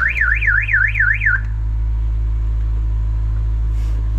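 A Nissan car alarm going off in Jordan wails in a loud, fast up-and-down siren for about a second and a half, then cuts out, leaving a heavy, constant low engine rumble close by.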